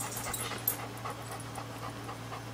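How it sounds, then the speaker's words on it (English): A dog pants steadily at close range through a short indoor stretch, with a constant low hum beneath and no talking. "There's the dog."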